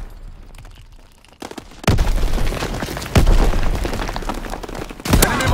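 Mortar shells exploding in Call of Duty WW2, with several heavy booming blasts landing one after another close by and a rumbling battle din between the impacts.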